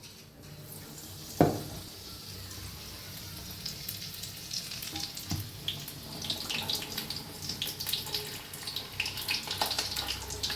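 Spinach leaves dipped in batter go into hot oil as palak pakoda, setting off a steady crackling sizzle close by. A sharper splash comes early, and the bubbling grows busier toward the end.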